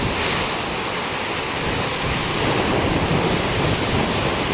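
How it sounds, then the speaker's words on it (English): Huge ocean waves breaking at Beavertail on the Rhode Island shore, a continuous roaring wash of surf mixed with gusting wind noise on the microphone, loud and steady with no voices. "The waves are nice"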